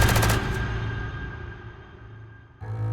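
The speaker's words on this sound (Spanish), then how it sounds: "llegaron los disparos y luego el silencio." Gunfire in a war documentary, a loud close burst of rapid automatic shots that fades into a dim rumbling lull before another burst of firing breaks in at the end.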